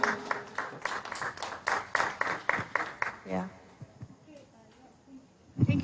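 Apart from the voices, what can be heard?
audience applause clapping a speaker out of the room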